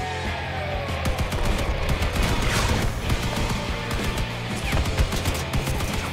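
Rapid bursts of automatic fire from the Spectre-2 machine gun in the vehicle combat game Crossout, a loud, dense, continuous rattle over about six seconds mixed with impacts and crashes, with no voices.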